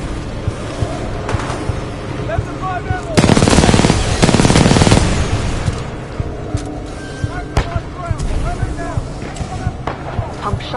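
Automatic weapon fire in the video game Titanfall 2, a loud dense burst of rapid shots in the middle amid ongoing game sounds, with scattered single shots and speech around it.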